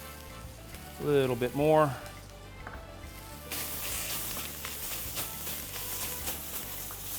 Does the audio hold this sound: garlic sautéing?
yes